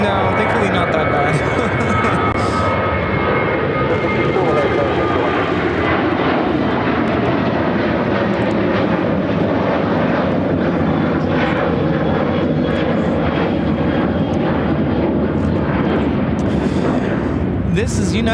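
A United Airlines Boeing 737-700 jet taking off from O'Hare, a loud nearby engine roar with crackling rumble that swells and then slowly recedes, with people talking over it.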